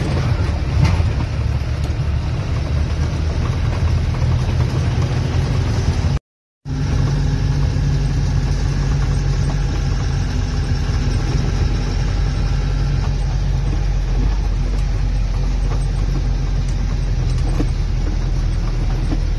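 A Mercedes-Benz 1620 truck, a 2005 model with an electronic engine and a broken differential, hauling a load of horses. Its engine drones steadily and low at close range, with a brief dropout partway through and no talking.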